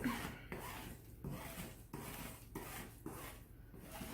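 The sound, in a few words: scraping moisture residue off a table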